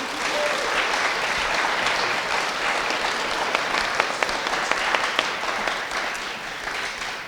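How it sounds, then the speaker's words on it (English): An audience at a Great Salt Lake community forum on lake dust gives a sustained round of applause, dense and even from start to finish, filling the room. "if you all could just give one more round of applause for Ben and Kevin here"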